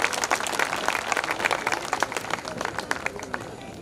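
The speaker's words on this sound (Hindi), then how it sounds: "एक बार जोरदार तालियों के साथ फिर से अभिनंदन होना चाहिए।" Audience applause at an ex-servicemen welfare association program, steady, dense clapping from a large crowd at moderate distance, continuous for a few seconds with a faint voice underneath.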